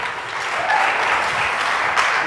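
A church congregation claps their hands together during a worship service, making a dense, steady wash of applause that holds at an even, fairly loud level throughout.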